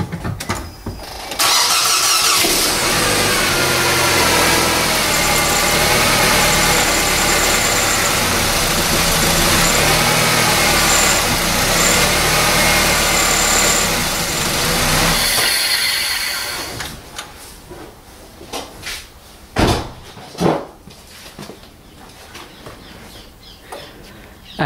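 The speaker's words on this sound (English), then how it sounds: "I'm gonna start the car now. It might sound a little rough at the beginning" A Nissan Serena engine cranks and catches, then idles roughly after brake-cleaner work on the intake manifold, with the throttle body cable unplugged. It runs loud and steady for about fourteen seconds, then shuts off, followed by a few scattered clunks and knocks.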